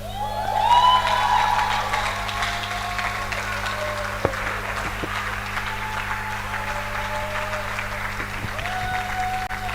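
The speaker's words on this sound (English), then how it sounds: "Please, a round of applause for Reverend Ray for an amazing session." An audience applauds for Reverend Ray at a conference session, the clapping steady, with wavering tonal whoops or siren-like noisemakers sounding over it and a sharp knock partway through.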